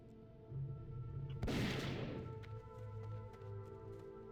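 Gunshot fired as a ranged pull by a rogue character in World of Warcraft Classic, a single sharp crack with a brief decaying tail over a quiet game backdrop of soft tonal hum.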